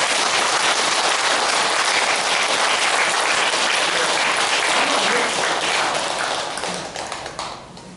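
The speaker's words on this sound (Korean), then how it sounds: "박수 한번 쳐주세요" Dense, loud audience applause at a Buddhist dharma talk, steady and continuous for several seconds before thinning and fading toward the end.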